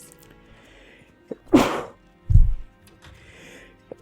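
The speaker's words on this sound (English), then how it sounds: "Stop sneezing! Give me my body back." A character in the Final Fantasy 7 Remake video game sneezes, one sharp loud burst followed by a low thump, amid quiet game ambience and a short spoken word.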